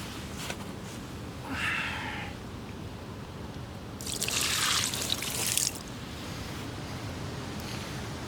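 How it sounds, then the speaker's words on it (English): Water is splashed over a caught 30-pound mirror carp on the bank, with two short bursts of splashing and trickling, the second longer and louder, over low outdoor background noise. "Let's just give it a little bit of water."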